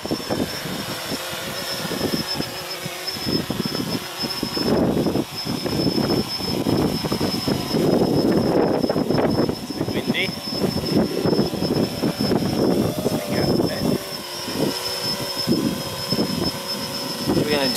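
XK X500 quadcopter drone lifting off in auto takeoff mode, a steady propeller whir with wind noise close to the microphone, continuous throughout while a person talks over it.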